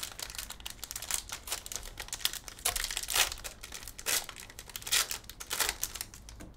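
Hands tearing open 2023 Impeccable WWE trading card packs, close, loud crinkling and ripping foil in irregular bursts with short pauses between, no speech.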